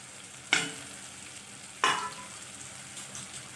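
Stuffed capsicum masala with tomato sautéing in oil in a pan, two sharp stirring scrapes over a soft, steady sizzle, close and without speech.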